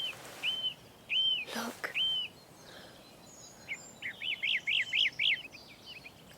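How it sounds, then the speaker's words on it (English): Birds sing in a quiet countryside scene of a radio drama, with repeated clear whistled phrases and a fast trilling series, moderately near, while a voice briefly speaks once. "The birds have lost their fear."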